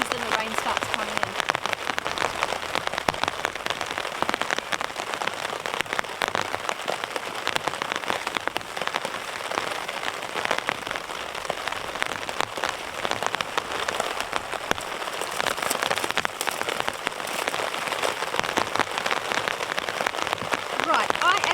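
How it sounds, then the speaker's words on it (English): Heavy rain pounds steadily on a camping tarp during wild weather, a dense and constant hiss of drops that stays loud and even throughout. "It's raining so hard."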